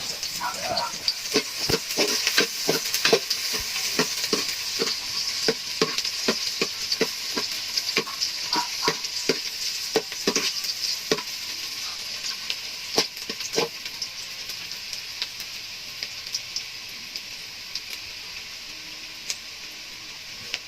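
Onions and garlic sizzle in hot oil in a cooking pot, giving a steady frying hiss with frequent crackles and the clatter of stirring throughout, loud and close.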